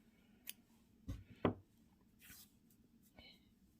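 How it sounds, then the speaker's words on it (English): Scissors snip off a yarn tail on a small crocheted amigurumi alien piece, giving a few short, soft, close cuts with quiet handling noise between them. "And then we'll just cut off our tail."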